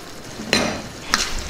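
Green peas with a pinch of salt are stirred in a pan of curry, with two quick scraping strokes of a spoon against the pan over a soft, constant simmer.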